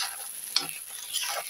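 Fish roe frying in a pan gives off a steady, close sizzle with a single sharp utensil clank partway through, and no voices.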